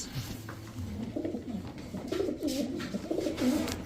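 Chocolate racer pigeons coo softly in a low, throaty, repeated rhythm, close and fairly quiet, with a little background noise.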